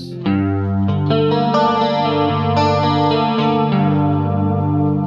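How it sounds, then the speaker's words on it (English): Clean electric guitar chords strummed and arpeggiated through a Boss GT-8 chorus effect, shimmering and warbling, bright and close, playing continuously for a few seconds. "Let's stick to 30 to give me that luscious sounding chorus."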